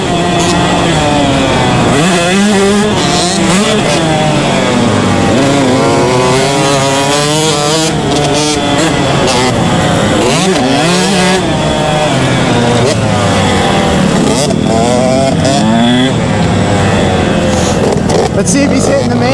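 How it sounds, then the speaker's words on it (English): Loud two-stroke engines heard close up from behind snarl continuously, revving up and down in rising and falling whines, with people talking over the din. "these two strokes are loud when you're close up behind them"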